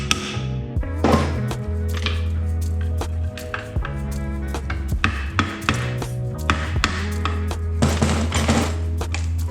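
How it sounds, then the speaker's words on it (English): A chisel pries and knocks at a T56 transmission housing, a series of irregular metallic taps, thunks and scrapes heard up close over a low steady machine hum. "I'm going to go with a chisel. Let's see if we don't tear this housing off."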